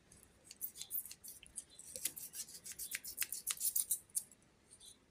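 Scissors cutting through an LED light strip in the middle, a quick run of crisp snips and crunches close up, quiet and without any voice.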